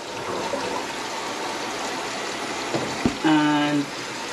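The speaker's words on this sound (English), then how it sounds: "now that we have some water, we're gonna release so there's more pressure coming down the drain" Water released into a kitchen sink rushes steadily down the drain in a continuous gushing stream, close by, with a brief clunk and a short whining tone near the end.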